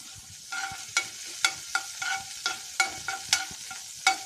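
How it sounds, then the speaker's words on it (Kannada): Cumin and black peppercorns dropped into hot ghee or butter, a soft sizzle with regular scraping stir strokes of a spoon about twice a second, close up and fairly quiet. "ಈಗ ಜೀರಿಗೆ ಕಾಳುಮೆಣಸು ಹಾಕ್ಕೊಂಡಿದ್ದೀನಿ"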